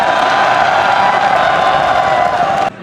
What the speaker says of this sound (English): Fliptop, magingay para sa huling laban ng gabi.